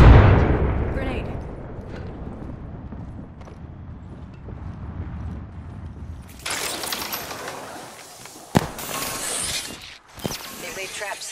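Grenade explosion in the video game Lordus. A loud, close blast opens and rumbles away, followed by further battle crashes and sharp bangs, with talk over the top.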